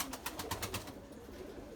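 Erzurum white pigeons cooing at close range, a quick series of soft rhythmic coos in the first second, then a quiet stretch with faint room noise.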